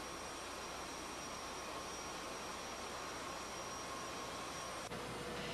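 Blowing engines and a turbo blower in a steel works powerhouse, supplying the blast furnace, produce a steady faint roaring hum with a high whine, continuous and unchanging.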